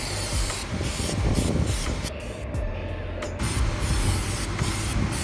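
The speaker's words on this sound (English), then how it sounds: "you just come to it and you spray it" Continuous hissing spray in bursts, a few short pauses between sprays, close by with a rough, broadband hiss.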